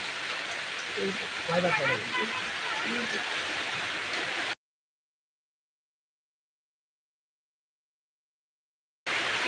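Rain falls as a dense, steady hiss with a voice murmuring underneath, then the sound drops out entirely before returning briefly at the end.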